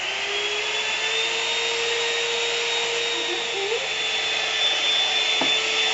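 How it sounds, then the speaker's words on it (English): Blender whipping heavy whipping cream with sugar at high speed for a strawberry coconut tres leches cake; a steady, continuous motor whine at moderate level with a faint rising pitch, running alone without talk for the whole clip. "you're going to blend it high speed, okay? High speed for a little while until you see it gets thick."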